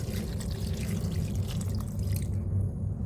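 Hot water from a filter dispenser pours steadily into a pot of dried chilies. The liquid splashes and gurgles continuously, close and fairly quiet, and stops near the end.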